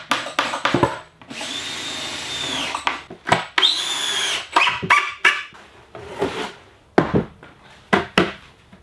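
Power drill driving screws into the legs of a small table built from an old wooden wire spool end, heard as several short loud whirring bursts with pauses between, close by and alone.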